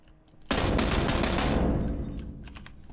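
Automatic gunfire in the PlayerUnknown's Battlegrounds video game erupts suddenly after a short quiet lead-in. The loud, dense burst lasts over a second, then fades into a ringing tail.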